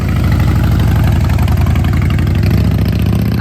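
Harley-Davidson motorcycle engine running loud and close, with a steady low throbbing rumble and a fast, even pulse throughout and no voices.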